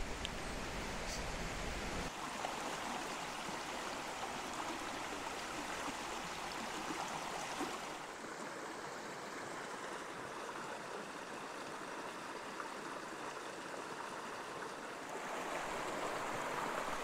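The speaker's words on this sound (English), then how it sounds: "Here's the crossing of the Logan River." The Logan River rushes over a crossing on the southeast ridge approach to Mt Barney, a constant close wash of flowing water that stays loud and steady throughout.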